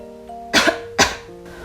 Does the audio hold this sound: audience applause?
no